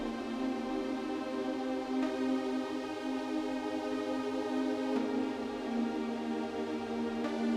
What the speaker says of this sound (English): So together, the two pads sound like this.